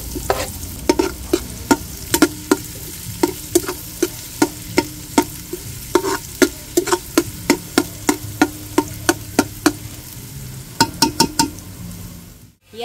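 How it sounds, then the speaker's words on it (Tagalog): Onion is sautéed in a cooking pot alongside garlic, sizzling steadily beneath many regular metallic clinks and scrapes of a utensil stirring against the pot, ending in a fast cluster of taps. "Ilalagay ko na rin po yung sibuyas."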